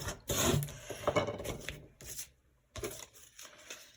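Glued papers on a large art journal cover being burnished by hand, giving close, dry rubbing and rasping strokes in short uneven bursts with brief pauses between them.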